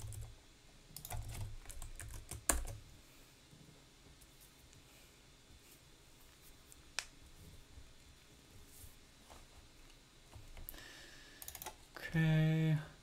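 Keystrokes on a computer keyboard during a live C++ coding session, with irregular bursts of typing at low level, occasional louder clicks, and a brief hum near the end.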